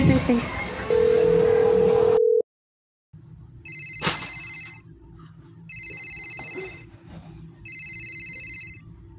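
A phone call being placed: a steady tone, a short silence, then a click and repeated electronic ringback tones in regular bursts over a low background hum, with no one speaking.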